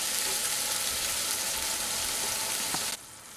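Mustard fish masala sautéing in a pan over a medium flame, a steady dense sizzle held close throughout, dropping away abruptly near the end.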